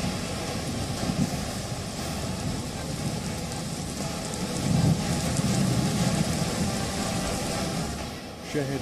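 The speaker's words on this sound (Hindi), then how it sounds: "जोधपुर में लगातार रिकॉर्ड तोड़ बारिश हो रही है" Heavy monsoon rain pours in Jodhpur, Rajasthan, with a dense, constant hiss of rain and low rumbling swells, while a voice talks over it.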